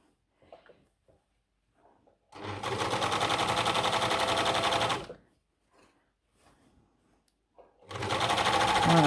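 Sewing machine stitching a zigzag overcast along a fabric edge while setting a tulip-shaped sleeve, two loud steady runs of rapid mechanical whirring separated by quiet pauses with faint handling noises.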